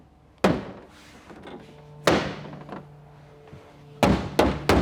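Carbon fiber wing tabs on a Mercedes C190 AMG GT being pressed into their receptacles, giving sharp, loud clicking thunks: one near 0.4 s, another near 2 s, then a quick pair toward the end, with quieter handling noise between.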